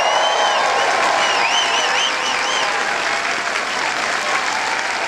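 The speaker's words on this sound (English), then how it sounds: "I'd love you to bring his spirit into the room with an enormous round of applause if you would." Enormous applause from a concert audience, dense sustained clapping with whistles and a few cheers ringing above it, loud and continuous throughout.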